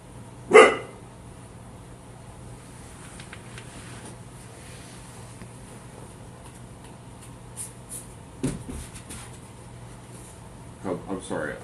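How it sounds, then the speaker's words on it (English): A dog gives one loud, close bark near the start, with a few quieter barks and yips later, set against a steady indoor hum and faint background noise. "Like your barks at least sound really loud right now to me."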